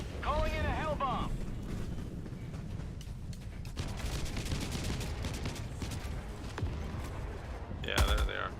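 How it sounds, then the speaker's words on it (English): A hell bomb detonates in a video game, a sustained roaring blast of rumbling, crackling explosions with scattered sharp bursts, loud and close, with brief synthetic whistling tones at the start and end. "Calling in a hell bomb."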